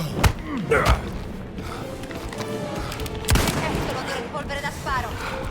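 Gunfire in a video game, with a few sharp, punchy shots near the start and another burst midway over a dense, continuous bed of game noise.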